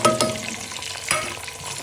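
Onions and garlic-ginger paste fry in a pan with cumin, cloves and cardamom, a steady sizzle broken by a few sharp scraping stirs near the start and middle.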